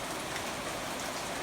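Steady rain falling on a farm in June beside a big pasture and soybean fields, a dense, even hiss of drops on surfaces with no breaks, close and constant, heard alone without talk.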